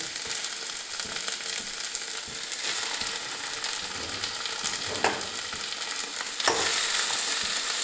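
Meat frying and being stirred in a pan, a continuous dense sizzle with frequent scraping and clacking strokes of a spoon, close and fairly loud, with no voices.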